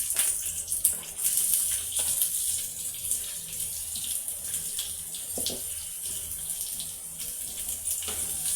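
Curry leaves, green chillies and chopped onions tipped into hot oil with popping mustard seeds, giving a steady, loud, close sizzling hiss with brief crackles throughout.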